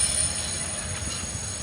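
A train's wheels squeal at a rail line near houses, a steady, high-pitched screech held throughout over a constant rumbling rail noise, fairly loud and without talking.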